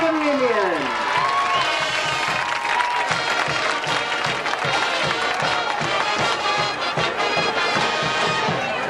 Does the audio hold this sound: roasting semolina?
no